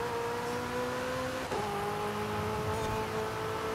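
McLaren 765LT or Lamborghini Veneno supercar in the Forza Horizon 5 racing game, a steady, fairly quiet engine drone with sustained tonal whine shifting pitch as it accelerates, no talking.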